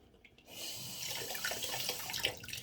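Water runs from a tap to wet a blackhead extraction tool, a steady close hiss and splash that starts abruptly after a brief quiet moment and continues softly with faint trickling, no voices.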